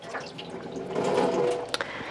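Water poured out of a kitchen pot of rinsed food, a soft gurgling splash that swells midway, followed by a couple of small clinks and drips.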